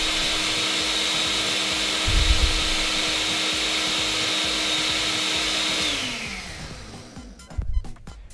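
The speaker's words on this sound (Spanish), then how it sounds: "Hay que licuar perfectamente bien para que el mango no quede esos tropezones." A kitchen blender runs at a steady, loud whir while liquefying mango for a chili sauce, then winds down and stops, with a couple of clunks as it settles.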